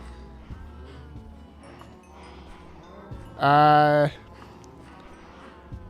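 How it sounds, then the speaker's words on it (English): Cows in the video game Minecraft give a single loud, drawn-out moo of about a second, rising above quiet game background and faint ambient tones. "Lots of cows."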